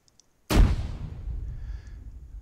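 A frag grenade detonates in Arma 3 with a sudden loud blast, then a rumbling decay that lingers for about two seconds, with no one speaking.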